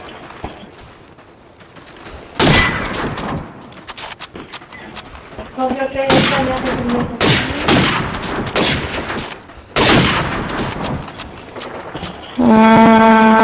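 Gunfire in a multiplayer video game match, with scattered sharp shots and bursts, some loud and close, plus horn-like tones near the end and speech in between.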